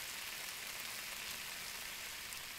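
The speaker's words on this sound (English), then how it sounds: "listen to that thing sizzle" Salmon fillet frying in a pan in the Cooking Simulator video game, giving a steady, dense, crackling sizzle that stays loud and even throughout with no talking.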